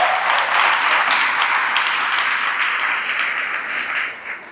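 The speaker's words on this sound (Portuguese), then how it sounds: "Vamos aplaudir ao Senhor por isso?" A church congregation applauds together, a steady dense wash of clapping that holds for several seconds before thinning slightly at the end.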